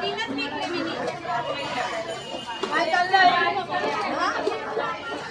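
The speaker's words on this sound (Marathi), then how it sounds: "गर्दी पण तेवढीच आहे" Dense crowd chatter at a busy fish market in Saraswale Koliwada, Navi Mumbai, many overlapping voices near and far forming a steady hubbub, with occasional clatter beneath.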